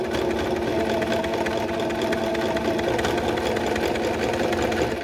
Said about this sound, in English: sometimes I backtrack while I'm sewing just so I could lock the stitch in place